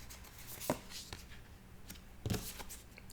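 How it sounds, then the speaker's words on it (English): Tarot cards are shuffled and drawn from a thick deck, giving soft papery riffles and a couple of sharper card snaps, faint and close, with no talking. "All right, Laura, just pull the cards"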